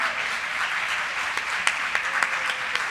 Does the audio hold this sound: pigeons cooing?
no